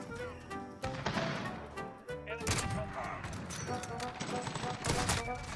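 Rapid gunfire from the Call of Duty video game crackles almost continuously in dense, overlapping bursts, loud and cluttered with other game sounds throughout.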